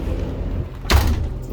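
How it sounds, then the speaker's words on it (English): A bedroom door in a 2013 Tiffin Phaeton 36GH diesel pusher motorhome is pushed shut with a single solid thud near the middle, over a steady low hum of a running generator. "Let me shut this door so we don't hear that gen set."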